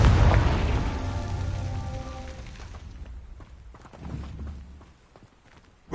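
In Hogwarts Legacy, a Confringo fire spell goes off as a heavy booming blast that rumbles and fades, followed a few seconds later by a smaller second burst.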